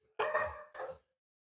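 Dog barking next door, two short sharp barks in quick succession, fairly clear and close, followed by silence.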